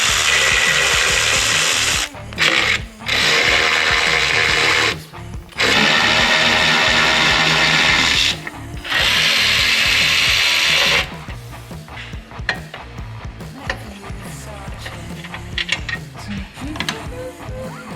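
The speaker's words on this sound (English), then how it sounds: "you'll need to do is to remove the bolts from the valve cover" A power ratchet or drill with a 10mm socket spins off valve cover bolts on a Ford 7.3 Powerstroke diesel, loud whirring bursts broken by short pauses, then quieter clicking and clinking of the socket and bolts.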